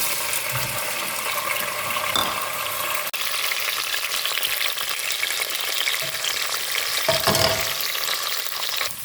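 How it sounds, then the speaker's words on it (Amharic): Raisins sizzle and crackle steadily in hot oil left over from frying carrots for chicken bukhari rice, with a few scraping stir sounds and clicks, close and continuous without speech. "ካሮት በጠበስንበት ዘይት ላይ ዘቢቡን እንጠብሰዋለን።"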